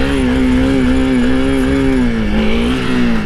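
A Honda CRF300L dual sport motorcycle revs loud and close in first gear for a wheelie, giving a steady, buzzing engine note whose pitch wavers slightly over a few seconds.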